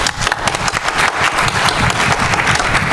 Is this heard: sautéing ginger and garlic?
no